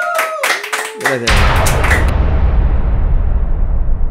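A few sharp claps and a host's voice give way to a loud burst of applause from a talk show studio audience that keeps going.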